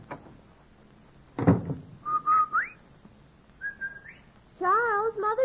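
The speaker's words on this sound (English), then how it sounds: "The Rinso whistle is our way of telling the children we're home from work." A whistled household signal announcing a mother's return from work in Kansas City, several rising and sliding human whistles, clear and close, following a brief thump, with no talking.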